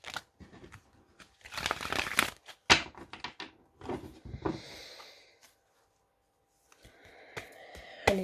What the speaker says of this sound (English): I'll give you another shuffle.